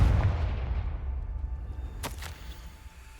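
A Confringo fire spell blast in Hogwarts Legacy booms loud at the start and rolls off into a long decaying rumble, with a brief sharp crackle midway as the echo fades.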